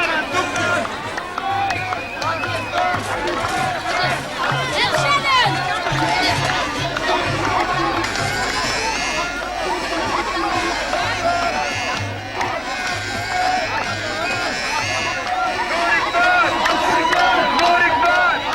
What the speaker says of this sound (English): In the Deir Dronka monastery in Middle Egypt, pilgrims flock in by the thousands to celebrate the feast of Mary.